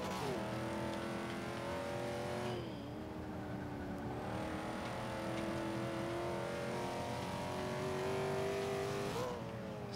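A Buick GNX engine in Forza 5 roars continuously at full throttle, revving up through the gears with brief dips at shifts, loud and alone with no talking.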